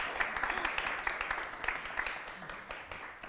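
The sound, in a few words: audience clapping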